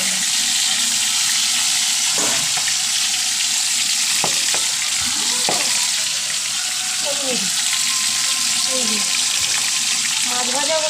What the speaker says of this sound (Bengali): মাছ ভাজা বসিয়েছি